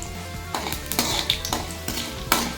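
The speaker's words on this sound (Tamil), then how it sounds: "கடுகும் கடலைப்பருப்பும் போட்டுக்கலாம். இது நல்லா பொரியட்டும்." Mustard seeds and chana dal frying in hot oil, a close, steady crackle broken by several sharp pops and light clinks of the pan.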